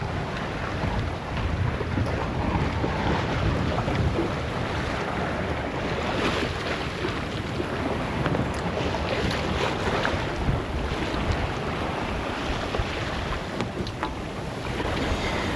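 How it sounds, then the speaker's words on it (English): A sailboat gets under way in a squall, with heavy, constant wind roaring across the microphone and water rushing along the hull, loud and unbroken throughout. "We left in a squall."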